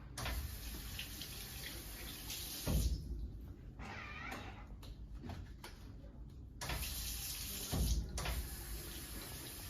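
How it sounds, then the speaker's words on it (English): Hands being washed under a running tap, a steady faint hiss of flowing water with occasional splashes and two brief louder bursts, no one speaking. "How you wash your hands."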